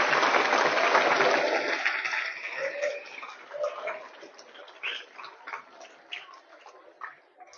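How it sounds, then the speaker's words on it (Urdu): Students in a lecture audience applaud, a loud burst of clapping at the start that thins into scattered, separate claps and fades away over several seconds. "ایک زبردست تالیاں آپ کے لیے"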